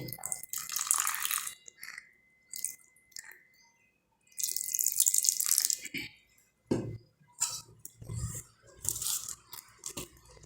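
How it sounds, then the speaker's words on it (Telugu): Water splashes in close, short bursts of pouring from a cup into dhokla flour batter, separated by pauses and wet mixing sounds. "అదే కప్తో వాటర్ కొద్ది కొద్దిగా యాడ్ చేసుకోవాలి"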